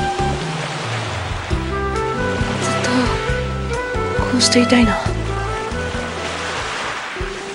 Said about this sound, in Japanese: 大きな波が来る。